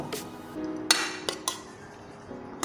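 Dried shrimp salad with pickled mustard greens scooped from a bowl and served into dishes, with a few sharp clinks of spoon against crockery and quieter scraping between them.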